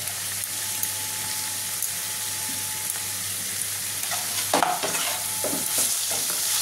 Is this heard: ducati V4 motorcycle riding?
no